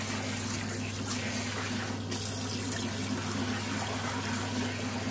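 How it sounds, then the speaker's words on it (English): Warm tap water runs steadily into a sink as tie-dyed fabric is rinsed, a constant close hiss of flowing water lasting throughout with no talking. "So I'm gonna rinse them with warm water."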